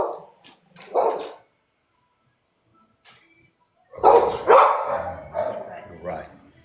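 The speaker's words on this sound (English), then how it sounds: "Absolutely beautiful pup." A playful puppy of about six to eight months barks in short bursts, loud and close, with a quiet gap between an early pair of barks and a later cluster of yips and whimpers.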